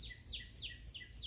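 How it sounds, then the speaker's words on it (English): A bird sings outdoors in an orchid garden, a bright run of repeated descending whistled notes, close and clear over faint background noise. "That bird wants to be all over the world singing today."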